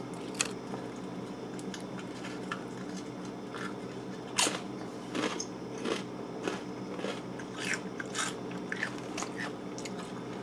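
Someone crunches on Kettle maple bacon potato chips, with a series of sharp, close, crisp bites and chews spaced irregularly over a quiet background.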